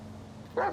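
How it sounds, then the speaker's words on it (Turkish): A dog barks once, loud and close, in the video game GTA 5, a single burst after a quiet stretch of game ambience. "Niye havlıyor lan bu köpek?"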